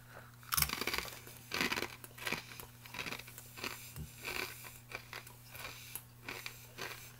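Close, crisp crunching bites into a hollow fried jalapeno chakri snack, about a dozen sharp crackly bursts in a steady chewing rhythm with no talking.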